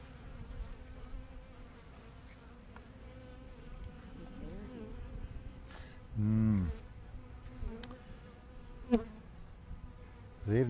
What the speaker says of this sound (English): let me just brush these bees off here